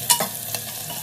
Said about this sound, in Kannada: ಸೊ ಆನಿಯನ್ ಫುಲ್ ಸ್ವಲ್ಪ ಗೋಲ್ಡಿಶ್ ಬ್ರೌನ್ ಥರ ಆಗಬೇಕು, ಚೆನ್ನಾಗಿ ಫ್ರೈ ಮಾಡ್ಕೊತಾ ಇದ್ದೀನಿ